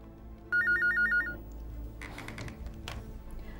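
An old telephone rings in a quiet room, one short burst of repeated warbling trills lasting under a second, followed by low indistinct rustling and faint background noise.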